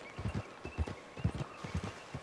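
Horse hooves clip-clop steadily at a trotting pace in the video game Red Dead Redemption II, close and even over a low background hum.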